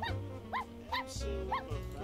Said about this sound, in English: This is our family dog.